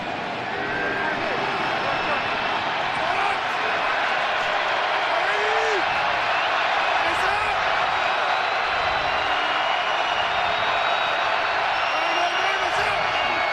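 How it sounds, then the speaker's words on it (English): Stadium crowd noise from Eagles fans at FedEx Field during an NFL game against Washington, a steady loud roar on third down running throughout under a commentator's voice. "Eagle crowd here at FedEx making noise on 3rd down."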